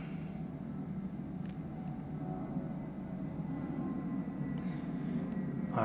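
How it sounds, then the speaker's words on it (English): Low, steady rumble of aircraft passing overhead near a San Francisco airfield in the train game Train Sim World 2, heard on the Caltrain Peninsula Corridor, swelling slightly toward the end with no voices. "San Francisco airfield. Some planes going overhead."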